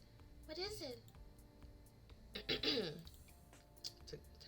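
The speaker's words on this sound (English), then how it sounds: "Took time to clear my throat." A man clears his throat during a game playthrough: two gravelly rasps, separated by a pause, close to the microphone against quiet background.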